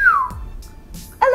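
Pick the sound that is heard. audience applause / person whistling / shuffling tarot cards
person whistling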